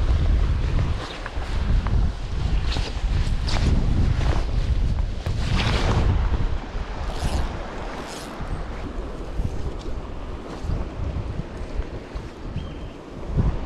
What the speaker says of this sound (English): The wind's just a killer.